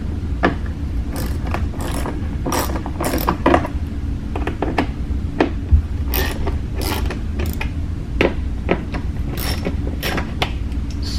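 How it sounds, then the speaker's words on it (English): A 1/4 inch socket wrench loosens tight screws on a GMC Denali truck's WeatherTech mud flap, giving a run of sharp ratcheting clicks and creaks over a steady low hum. "so you'll need a 1/4 inch socket wrench to do this,"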